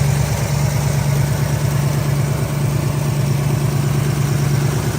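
1971 Ford Mustang coupe with a 302 V8 and automatic transmission idling steadily, a loud, close, even low rumble with a faint rhythmic pulse throughout and no voices.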